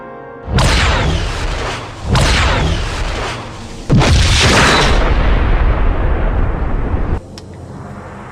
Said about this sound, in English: It's charging weapons and firing.